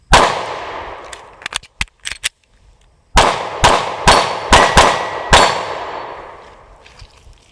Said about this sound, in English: draw, hit the paddle, reload, put 2 rounds on the body